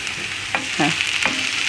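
Chopped onion frying in a pot on the stove gives a steady close sizzle with a few soft scraping stirs of a utensil over about two seconds, with no talking.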